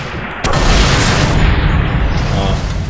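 A loud, close explosion in Sniper Elite 3 on PS4 booms suddenly and rolls on with a dense, rumbling wash that fades slowly.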